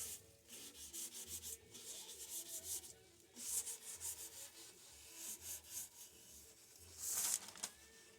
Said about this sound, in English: heaviest grit of sandpaper I've ever used with true oil